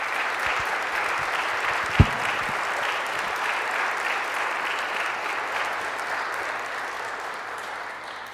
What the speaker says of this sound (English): Round of applause, please, for Trinity.